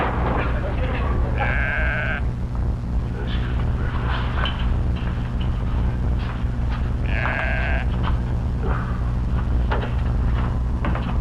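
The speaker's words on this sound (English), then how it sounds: "The sheep. Maybe he's calling something." A sheep on a farm bleats twice in long, loud calls over a constant low hum, with quieter rustling and movement between the calls.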